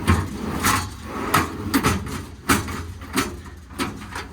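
Drawer of a Stellar TMAX service bed on a 2020 Ford F-550 sliding stiffly, a series of knocking thuds and grinding scrapes repeating roughly every half second, close and fairly loud.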